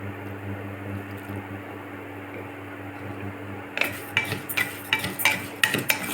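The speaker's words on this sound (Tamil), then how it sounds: "இப்போ நல்லா வறுக்கும் போது கொஞ்சம் இதில் வந்து நெய் ஆட் பண்ணிக்கலாம்" Rice and lentils roasting in ghee for sweet sakkarai pongal are stirred in a pan: a steady low hum gives way to a run of close scraping and clinking stirring strokes, repeated quickly, with no talk.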